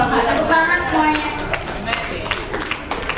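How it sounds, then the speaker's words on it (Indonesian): Audience applause breaks out at a power strips product demonstration, a dense steady patter of clapping hands with talking voices carrying over it throughout. "Tepuk tangan semuanya."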